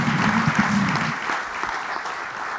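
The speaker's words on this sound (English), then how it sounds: "We have a round of applause." A round of applause from the audience at a World Wildlife Day conservation event, dense clapping heard close and steady through the whole short stretch, with no talk over it.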